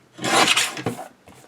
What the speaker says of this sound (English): I'm going to go ahead and trim this piece up